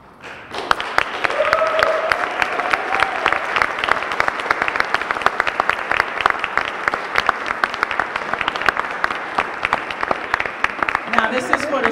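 Audience at the 30th annual MLK oratory competition in Jersey City applauding the student scholars, sustained loud clapping from many hands that starts after a brief quiet moment and carries on steadily to the end.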